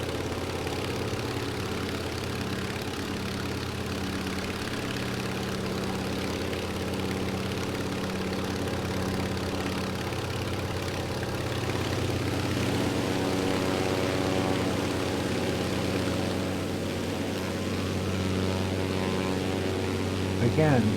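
An Antonov aircraft in Microsoft Flight Simulator, flying near Žilina, Slovakia, with a steady, loud propeller engine drone throughout and a slight swell in the middle; no talking.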